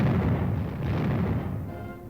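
Continuous heavy rumbling boom of cannon artillery fire from a 1957 U.S. Army film, a dense low roar that holds steady for about two seconds and then eases slightly, with no talking.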